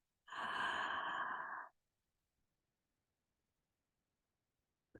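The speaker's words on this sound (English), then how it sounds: "you might like to play with open mouth breathing" One long open-mouth breath, close and clearly airy, lasting over a second before stopping into silence.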